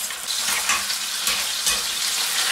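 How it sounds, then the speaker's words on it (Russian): Nutria lungs frying in unrefined oil, a steady close sizzle and crackle with brief stirring scrapes, no talk. "Легкие. Легкие очень нежные внутри. Они жарятся так же быстро,"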